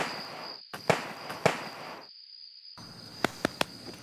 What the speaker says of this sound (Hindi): पटाखे, कोई पटाखे फोड़ रहा है वहाँ।